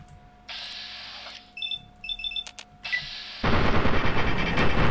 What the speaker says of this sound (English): This thing spits bullets.